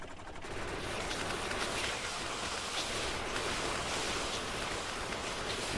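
In Factorio, a tank fires on attacking enemies, producing a dense, continuous barrage of rapid gunfire that blurs into a steady roar, fairly quiet and sustained throughout.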